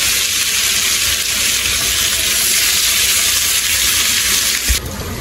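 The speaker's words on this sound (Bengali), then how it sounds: "তেলটা কিন্তু আমার গরম হয়ে গেছে, ওই যে দেখেন ধুমা উঠে গেছে। এখন আমি দিয়ে দেবো মাছ।" Fish fries in smoking hot oil with a loud, dense, continuous sizzling hiss close by, and a brief bump near the end.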